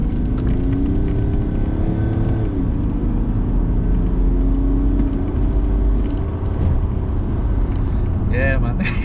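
Steady low engine drone of a BMW E60 535d diesel car heard from inside the cabin while cruising, a continuous quiet hum and road rumble running under conversation throughout.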